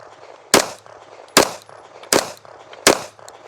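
Four loud, sharp pistol shots from a Staccato HD P4.5 fitted with a DPM Systems recoil kit, evenly spaced about three-quarters of a second apart, each a close, crisp crack with a brief tail and quiet gaps between.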